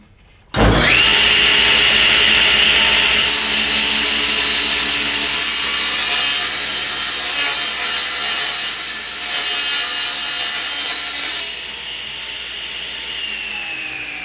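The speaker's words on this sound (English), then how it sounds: "Let's cut the edge of this board using the blade" A table saw blade trims the edge of a wooden board: a loud, continuous whining cut that starts abruptly, holds steady for about eleven seconds, then drops as the blade runs free near the end.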